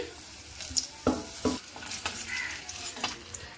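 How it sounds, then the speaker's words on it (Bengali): Pieces of food frying in hot oil in a pan until reddish-brown: a steady close sizzle broken by a few sharp clinks and scrapes of stirring, with no talk. "বাকিটা এইভাবে ভেজে নিচ্ছি।"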